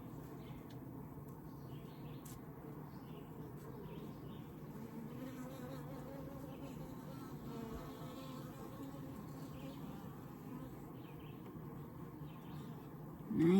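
Honey bees hum in a continuous, fairly faint drone around an open 20-frame Layens horizontal hive, with bright passing buzzes of single bees flying close by.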